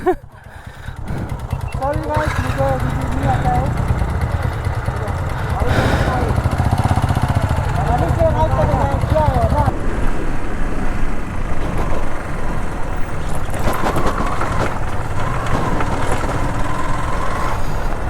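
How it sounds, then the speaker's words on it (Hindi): A motorcycle engine runs loudly and unevenly throughout, making excess noise and repeatedly losing power, with someone talking over the constant rumble. "मेरा बाइक कुछ ज़्यादा ही साउंड कर रहा है और बार बार पावर छोड़ रहा है"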